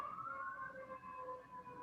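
A fire truck siren passes at a distance, a faint wailing tone that slowly glides down in pitch over a low background murmur, with no voices.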